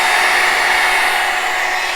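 A heat tool drying embossing powder for mixed media tags gives off a loud, steady, unbroken whoosh of blowing air.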